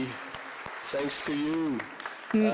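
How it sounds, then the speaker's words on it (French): Applause from a conference audience for a panel at a French-language session on water basin data, sounding as steady clapping that runs under a speaker's voice across the short stretch. "N'hésitez pas à les applaudir."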